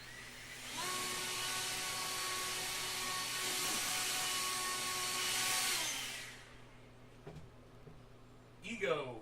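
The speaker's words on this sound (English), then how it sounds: "EGO, ego blower." An EGO battery-powered leaf blower runs close and steady with a high whirring whine and rushing air for about six seconds, then spins down and stops, leaving a quiet room before a brief rustle.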